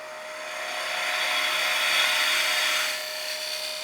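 A woodturning gouge cutting the end grain of a box spinning on a lathe, a sustained close tearing hiss with a steady motor hum underneath that swells and eases as the cut moves backwards.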